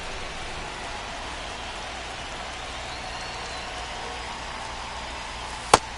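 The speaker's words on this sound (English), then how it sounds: "This rain is not letting up." Rain pours steadily on a ballpark during a baseball game in MLB The Show 25, an unbroken soft hiss of falling water, with one sharp click near the end.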